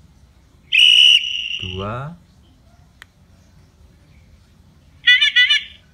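A Rockbross electric bicycle bell sounds in bright electronic tones: a sustained high beep, a falling warble, then a quick trilling burst, close and loud with a short spoken word between them.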